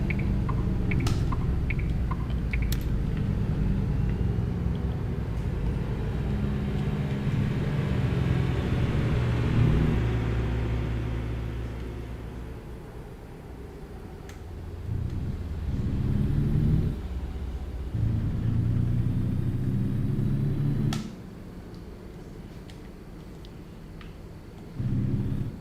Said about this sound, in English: Boy, this is a loud truck.